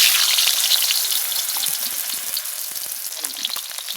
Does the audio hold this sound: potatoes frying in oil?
yes